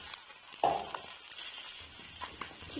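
Potato pieces are added to peas and cumin frying in a pan, a soft steady sizzle with a sudden louder crackle and a few light scrapes and pops.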